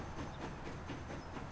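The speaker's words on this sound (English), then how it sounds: "And there is the train." A freight train runs in the Transport Fever game, a faint, steady rolling rumble with soft rhythmic clatter.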